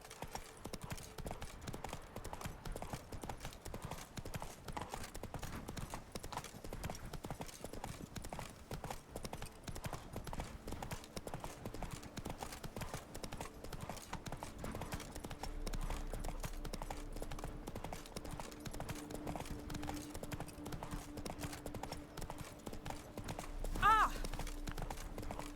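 Roach, a horse in a video game, gallops with a fast, continuous clip-clop of hooves over a steady background, with a brief louder moment near the end.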